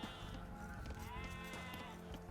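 Sheep in the Age of Empires video game bleat in short wavering calls, several overlapping bleats over a faint steady game background, quiet and without talk.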